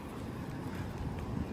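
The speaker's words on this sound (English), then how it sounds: "It's kind of windy. Windy chilly." Steady wind rushing and buffeting in Finland, a continuous broadband roar with low rumble, no voices.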